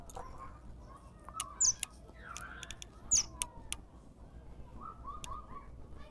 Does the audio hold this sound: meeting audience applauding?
no